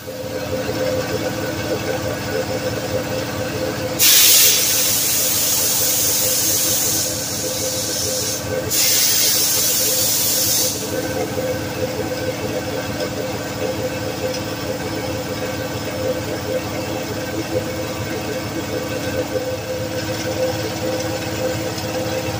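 A tire machine fills a tire with air. Loud, bright hissing bursts come from about four to eleven seconds, with a short break in the middle, over a steady mechanical hum.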